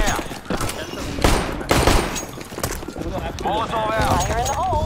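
Shotgun blasts ring out in a CS:GO match, several loud, sharp bangs mixed with other game sounds, while a player talks excitedly over them.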